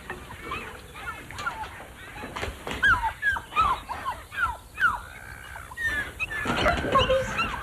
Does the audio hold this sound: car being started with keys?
no